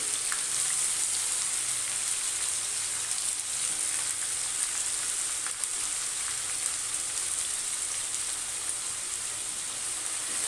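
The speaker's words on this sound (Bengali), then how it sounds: "এবার এটাকে আমি একদম ব্রাউন কালার করে মানে বাদামি কালার করে ভেজে নেব তেলের মধ্যে" Onions frying in mustard oil over a moderate gas flame, browning slowly for a goat and potato curry. A steady, dense sizzle runs unbroken throughout, close and fairly loud, with no talk.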